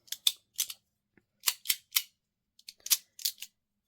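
A clicky, strong-detent forged carbon fidget slider snaps back and forth in sharp, crisp clicks, often in quick pairs, close and isolated against near silence.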